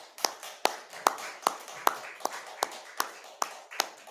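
A congregation claps at a church's seventh-anniversary worship service, with about ten steady, evenly spaced claps at a moderate distance.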